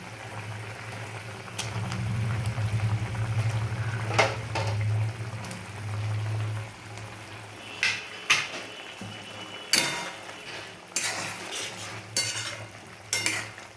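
Vegetables for chilli paneer bubble and simmer in a pan as cubes of paneer go in, a steady low bubbling bed broken by clinks and scrapes of a spoon against the pan, close, with no talking.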